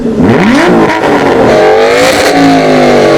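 Loud, close Aston Martin V8 engine blipping the throttle twice, each rev climbing quickly and then easing back to a growling idle.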